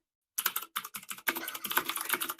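Loud mechanical keyboard switches clatter in fast bursts of typing, starting after a brief silence and then running almost continuously, close to the microphone with no talking.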